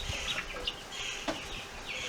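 Hens cluck in a Texas backyard garden flock in May, several short throaty clucks and a brief squawk scattered over a soft outdoor background, moderately close.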